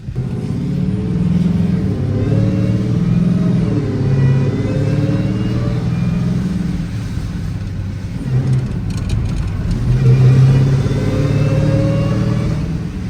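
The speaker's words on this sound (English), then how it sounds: "Let me give y'all some more revs while we sitting here though." A Dodge Charger Demon idling in a snowstorm and revved repeatedly, its deep engine note rising and falling in several close, loud pulls with a heavy rumble between.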